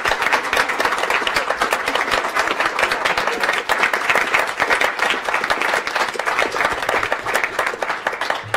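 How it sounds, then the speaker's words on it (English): Audience applause for a scholarship recipient at a school board meeting, a steady, dense round of clapping from a roomful of people that holds at an even level throughout. "so we could give him an applause"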